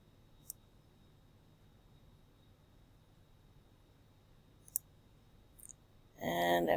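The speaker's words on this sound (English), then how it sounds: "I'm going to left click" Left clicks of a computer mouse while drawing a sketch in sewing software: a few sharp, isolated taps spaced seconds apart over quiet background hiss, then a voice begins speaking.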